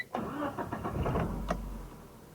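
A 1996 Geo Tracker engine cranking briefly on a warm restart and catching into an idle, close and loud with no talk.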